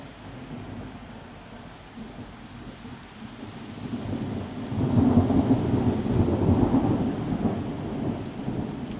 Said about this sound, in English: I love a good thunderstorm